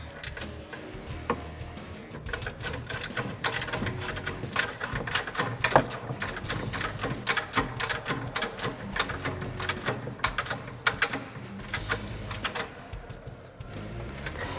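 A 15mm ratchet tightening the sway bar bolts on a 2008-2022 Dodge Challenger during an Eibach anti-roll bar install. Rapid, steady clicking goes on throughout, close up and fairly quiet.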